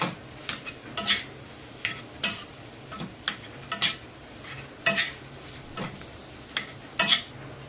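Filling, seasoned with salt to taste, is mashed and stirred in a pan, with irregular scraping and tapping knocks of a utensil against metal over a soft background hiss.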